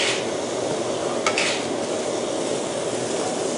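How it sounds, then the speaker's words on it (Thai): Pork ribs sizzle steadily in a hot pan, with a brief clatter of utensils near the start, close and continuous. "ทีนี้เราก็จะใส่ซี่โครงหมูนะคะ"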